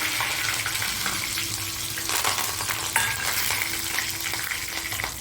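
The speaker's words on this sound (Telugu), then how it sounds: "తాలింపులో కొంచెం జీలకర్ర మెంతులు, ఎల్లిపాయలు, ఎండుమిర్చి," Cumin, fenugreek, garlic and dried chillies temper in hot oil for a chicken pickle, a steady, loud crackling sizzle up close with sharper pops and scraping stirs, and no talk.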